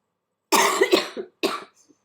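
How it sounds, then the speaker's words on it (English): Two bursts of harsh, close coughing: a cluster of several quick coughs, then a brief pause and one more cough. "Still dealing with a cough, so again, I apologize for coughing during this video"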